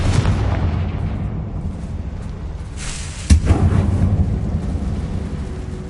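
A Confringo fire spell from Hogwarts Legacy, cast inside a closed mine that resembles a tomb, bursts into a sudden booming explosion over a low rumbling game backdrop, followed by a rolling roar.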